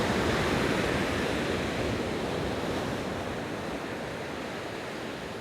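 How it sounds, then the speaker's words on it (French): Ocean waves at Quiberon in Brittany roar in a continuous, broad wash of surf, loud and close, fading only slightly, with wind in the background and no voices. "ici à Quiberon, les vagues sont remarquables"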